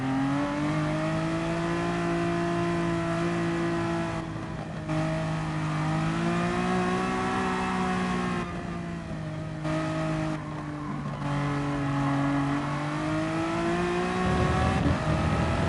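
A race car engine in the racing game GT Sport holds a steady, loud drone that rises and falls through gear shifts and revs, with a brief tire screech near the end and no talk.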